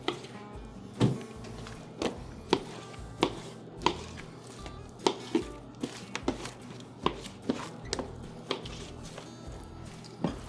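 A knife chops deer meat into chunks for hamburger on a board, giving repeated close, solid thuds at an uneven, unhurried pace, roughly one every half second to second.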